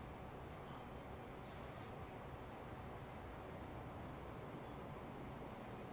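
A train runs in the Transport Fever video game, giving a steady rolling rumble of wheels on rails with faint high squealing tones early on. It stays continuous and moderately distant, with no talking.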